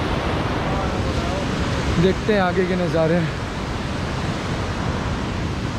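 Broadband rushing water of the Beas River near the club house in Manali flows steadily throughout, close and fairly loud, with someone speaking briefly over it partway through.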